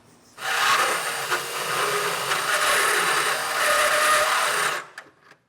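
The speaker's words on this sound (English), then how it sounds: "I'm going to keep drilling this out" A power drill whines steadily as it bores through metal while a Curt E16 fifth-wheel trailer hitch is installed on a 2015 Ram 1500, then stops abruptly and spins down.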